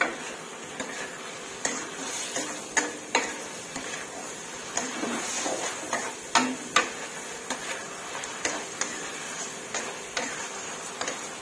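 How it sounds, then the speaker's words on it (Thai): Mixed vegetables and minced pork stir-fried in a pan, with a soft sizzle under repeated spatula clinks and scrapes against the metal that come in an uneven rhythm throughout. "ผัดทุกอย่างให้เข้ากันค่ะ"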